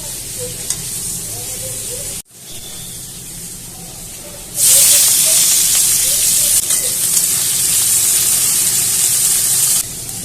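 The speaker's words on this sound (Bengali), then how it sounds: "পেঁয়াজটা ভাজা হয়ে গেছে" Onions fry in hot oil in a wok, a steady close sizzle broken by a brief cut, then surging into a loud, bright hiss that holds before easing at the end.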